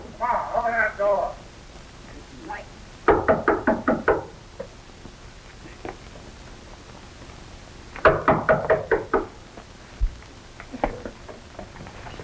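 Knocking on a door in a 1935 film scene, brisk bursts of several sharp raps repeated a few times, close and clear, with brief voices in between.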